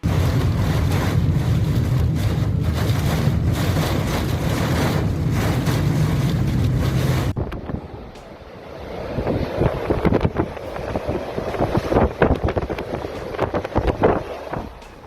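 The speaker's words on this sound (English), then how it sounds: "Storm Isha battered the UK with strong winds and heavy rain" Strong gusts during Storm Isha roar against the microphone in a loud, steady blast that abruptly drops to a rougher, buffeting rush with scattered cracks and rattles.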